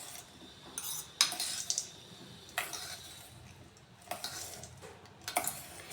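A spoon mixes a sprouts salad in a bowl, giving repeated close clinks and scrapes against the bowl in an irregular rhythm over soft background noise, with no talk.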